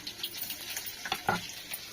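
Garlic fries in hot oil in a pan, giving a soft, continuous sizzle broken by light scraping stirs, close and moderately quiet.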